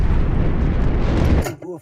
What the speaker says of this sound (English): Launching a torpedo at a large dry cargo ship. A hit.